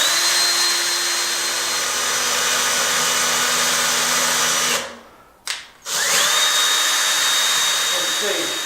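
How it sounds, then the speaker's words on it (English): An electric drill spins the remote control mechanism of a home-built Hebridean wind vane, giving a steady, loud whine that drops out briefly once and then resumes. "The electric drill makes it much easier to demonstrate"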